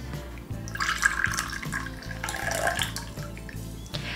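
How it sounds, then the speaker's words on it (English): Brewed tea liquor pours out of a teapot in a steady trickling stream, soft and continuous over a low background hum, with no talking. "now I'm going to pour the liquor out"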